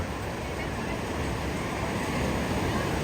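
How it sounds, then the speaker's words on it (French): Large ocean waves, about two metres high, break along the surf beach at Punta Hermosa, Peru, in a steady, loud, wind-blown roar that washes on without pause. "Vous voyez la hauteur des vagues?"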